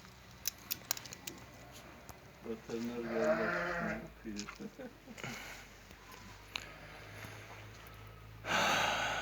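A sick lamb bleats a few times at close range, faint rustling and brief handling noises around it, with another bleat near the end.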